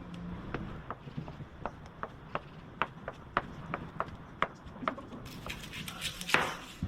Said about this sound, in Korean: 이렇게 해서 햄을 잘게 썰어 볼게요